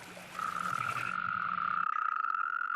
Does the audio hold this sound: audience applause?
no